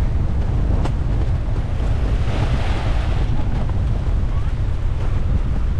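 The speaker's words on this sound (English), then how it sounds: "The sea come up and wet up my foot." Sea waves wash up on a Jamaican shore as Tropical Storm Rafael approaches, a continuous rough surf under heavy wind buffeting the microphone.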